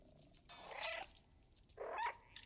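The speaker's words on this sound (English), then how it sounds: "I'm meowing in protest." A cat meowing in the video game Stray, two separate plaintive meows about a second apart, fairly faint and heard alone.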